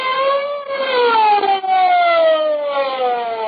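A wailing siren rises and falls in long, loud, steady sweeps, close and alone.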